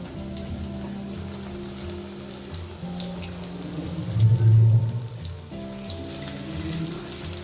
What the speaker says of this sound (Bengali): তেলে দিয়ে এখন এগুলোকে ভেজে নিচ্ছি